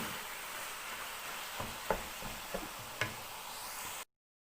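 Grated carrots for gajar ka halwa fry in ghee with a soft, steady sizzle, broken by a few light knocks of a stirring spoon against the pan.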